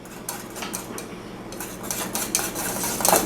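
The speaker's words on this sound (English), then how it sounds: "Stir that a little bit more." A utensil scrapes and clinks steadily against a pan while stirring chicken-fried-chicken gravy, with a low sizzle underneath. The scraping grows busier and louder toward the end.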